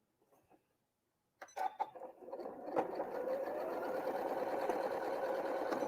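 Domestic sewing machine stitching a quilt seam, a brief pause, then a few clicks before the motor starts and settles into a steady, close, rapid needle whir.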